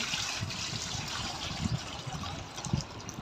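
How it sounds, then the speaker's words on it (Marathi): Hot water pours steadily in a continuous hissing stream over crabs, with faint irregular splashes and clunks underneath. "पूर्ण गरम पाणी आहे टाकायचे म्हणजे गरम पाणी"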